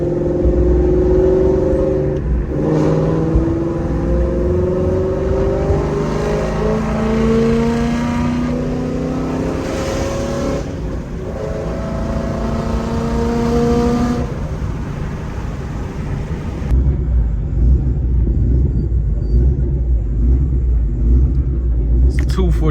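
A Ford Mustang 5.0 with a very loud aftermarket exhaust rumbling and revving, deep throaty engine tones rising and falling in waves, close and continuous, with someone talking over it.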